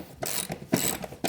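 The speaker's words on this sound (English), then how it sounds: "Lag screws are installed, screwed in." Hand ratchet driving lag screws into a wall while mounting a home gym rack, giving quick bursts of rapid clicking in about four separate strokes with short pauses between, close and moderately quiet.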